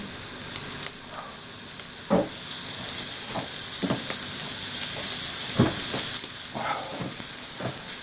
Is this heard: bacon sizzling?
yes